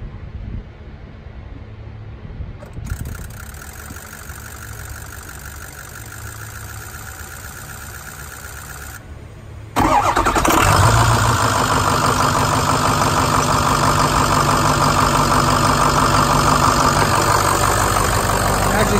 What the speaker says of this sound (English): Here goes the engine start.